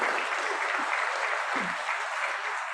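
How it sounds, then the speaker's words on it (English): A large audience at a city's State of the City address in Alameda breaks into a big round of applause, a dense, continuous wash of clapping heard from some distance and holding steady throughout. "Huge round of applause."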